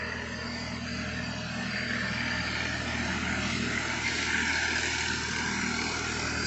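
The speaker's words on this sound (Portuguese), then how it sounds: "Está passando um trator aí." Tractor engine passing at a botanical garden, a steady broadband rumble with strong low drone and engine noise that swells slightly toward the end, continuous and fairly close, with no talk over it.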